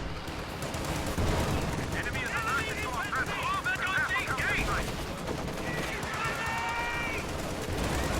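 Light machine gun fire from LMG riflemen in a video game, heard as dense, sustained rattling bursts over a constant battle din, with someone talking excitedly over the shooting.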